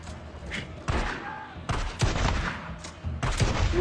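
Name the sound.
shotgun blasts in the video game Days Gone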